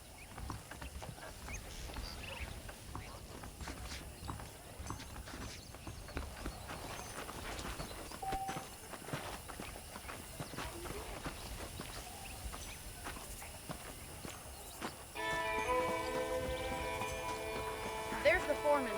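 Horse hooves clip-clop at a steady walking rhythm in a Red Dead Redemption ranch scene, moderately close under continuous talk, with a brighter musical layer entering near the end.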